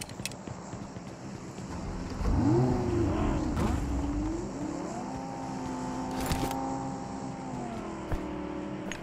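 A vehicle drives in PUBG Mobile, its engine whining and rising in pitch as it accelerates and then holding a steady drone, moderately loud, with no talk over it.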